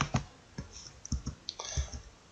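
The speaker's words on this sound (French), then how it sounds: "je clique sur Finish" A handful of quiet, close mouse clicks land at irregular intervals as a Finish button is pressed, alone with no talk around them.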